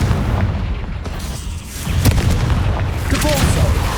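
A Confringo explosive spell goes off in the Hogwarts Legacy video game, giving loud, booming blasts with a noisy rumbling tail amid ongoing game sounds.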